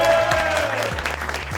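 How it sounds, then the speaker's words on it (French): An audience applauds in a short, dense burst of clapping that continues through the whole moment. "normalement, le public doit applaudir."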